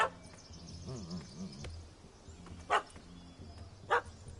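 In The Witcher 3, a dog barks in short separate yips: two sharp barks a second apart stand out over a quiet game soundscape, with a whining, wavering cry earlier.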